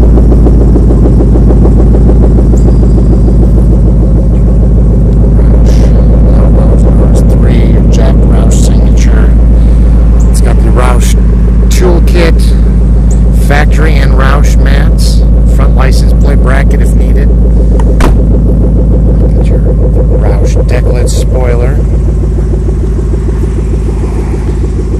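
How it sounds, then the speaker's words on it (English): A deep, steady engine rumble from a 2013 Roush Stage 3 Ford Mustang coupe with a 565 hp 5.0 V8 and dual chambered exhaust, loud and close, while someone talks over it. "It's got the high performance dual chambered exhaust"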